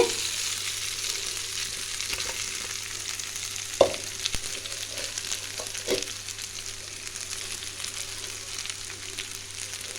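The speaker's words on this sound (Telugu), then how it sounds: "ఈ విధంగా కలుపుకున్నాక మనం ముందుగా ఉడకబెట్టుకున్న అన్నాన్ని వేసుకోవాలండి" Boiled rice being stirred into a frying raw mango mixture in a pan for mango pulihora, a soft continuous sizzle with a couple of spoon knocks and stirring scrapes, fairly quiet and steady.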